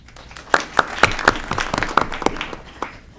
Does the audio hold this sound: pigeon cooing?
no